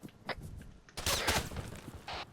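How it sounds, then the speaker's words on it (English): Gunfire in Arma 3 with a few distant muffled shots, then a louder burst of rattling fire, in a combat setting. "Shots fired from north."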